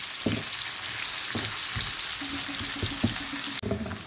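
Onions frying until light brown give off a close, continuous sizzle. Several soft knocks and scrapes of stirring come through it, with no one talking.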